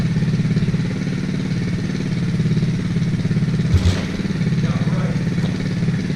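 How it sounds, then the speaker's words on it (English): A kick-started motorcycle on full choke runs at a steady, throbbing idle close by, with a brief clatter partway through and a short spoken word over the engine. "5 kicks, I got it running."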